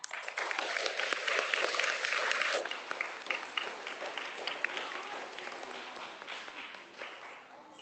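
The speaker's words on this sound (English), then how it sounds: "Let's give these boys and girls a round of applause." A crowd applauds at a third grade awards ceremony, the clapping swelling early then gradually thinning out over several seconds, heard from a moderate distance.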